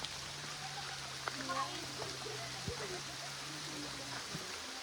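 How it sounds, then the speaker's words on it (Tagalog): Heavy rain falls with a steady, dense hiss on a wet ride near a cave in Biak na Bato National Park, while faint voices and a low engine hum sit underneath. "Lakas na ulan guys."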